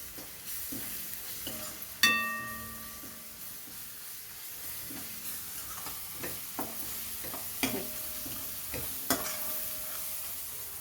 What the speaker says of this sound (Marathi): आता आपण जो अद्रक लसूण पेस्ट आहे ती टाकली, ती सुद्धा चांगली परतवून घ्यायची मसाल्यामध्येच